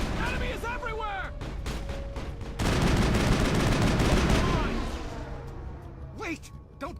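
Auto turrets in Mass Effect fire dense, rapid bursts of gunfire that swell into a loud sustained barrage midway and then thin out, with voices speaking over parts of the action.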